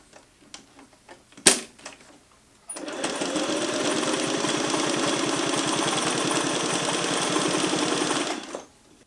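Singer 401A sewing machine stitching through two layers of leather: a sharp clack, then a loud steady run of rapid mechanical needle strokes for about six seconds before stopping.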